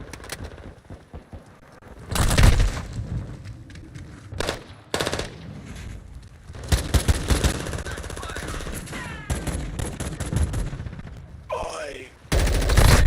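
Gunfire rattles through a shooter video game in repeated loud bursts, with rapid automatic fire and single close shots, while voices shout over the battle.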